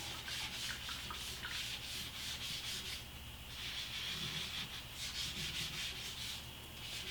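A Black Berkey filter element is scrubbed with the rough side of a pad, giving a continuous close abrasive rubbing that swells in rhythmic strokes as the element is rolled in the hand.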